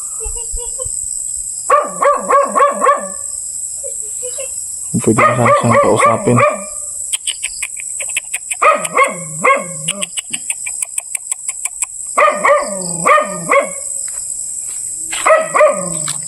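A dog barks near a rural hut in repeated bursts of several sharp barks with short gaps, loud and close over a high steady insect-like whine, and someone speaks briefly.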